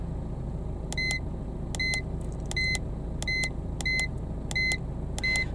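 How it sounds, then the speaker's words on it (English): An iCarsoft V1.0 handheld car diagnostic tool for BMW and Mini emits short, bright electronic beeps, seven evenly spaced pulses about every 0.7 seconds, over a low steady hum. "Now the tool does have a beep on it."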